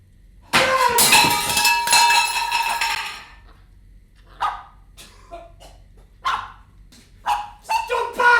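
A dog barks loudly in a student film scene, a dense burst of barking followed by several short, separated barks and yips in a quiet room.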